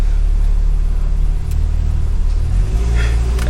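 Stage 2 tuned BMW 4 Series engine and turbo heard from inside the cabin, a loud steady low drone and rumble with the pitch shifting near the end, no talk.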